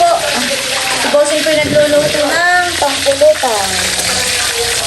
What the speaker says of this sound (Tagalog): nagpiprito po si Bossing ng papulutan